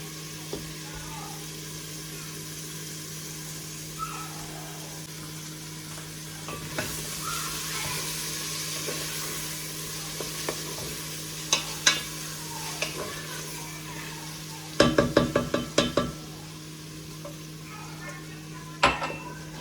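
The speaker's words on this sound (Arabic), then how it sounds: "دابا غادي نخلي هاد الدجاج يتقلى" Chicken frying in a pan for biryani gives a steady sizzle throughout, with stirring clinks and a short burst of utensil scraping near the end. Faint background sound sits under it, and no clear talk is heard.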